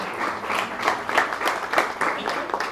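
Applause from an audience at a Tucson community event honoring an award recipient, brisk uneven clapping throughout with a few louder individual claps standing out.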